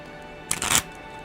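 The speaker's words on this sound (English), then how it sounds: "So I'm going to grab a tarot deck" A Hanson Roberts tarot deck, a Rider-Waite-Smith-based deck, gives one quick, close papery riffle as the cards are handled, a brief burst between quiet pauses.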